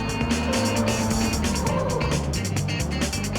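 Race cars in the Ridge Racer Type 4 video game roar with a steady, high engine whine that shifts pitch through gear changes, loud and continuous with a faint tire squeal.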